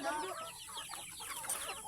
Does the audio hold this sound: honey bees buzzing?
no